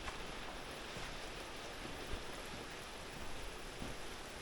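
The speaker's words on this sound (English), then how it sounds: "now pouring rain outside, and the dog is just happy to be out in the pouring rain" Steady pouring rain falling outdoors, a dense even hiss that fills the whole clip with no voices or other distinct sounds.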